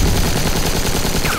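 Dense, loud gunfire in the video game Batman: The Enemy Within, bullets striking the player in a continuous rapid rattle filling the whole moment.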